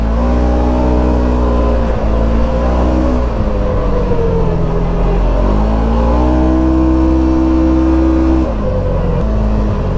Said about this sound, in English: So we're going to test the engine braking here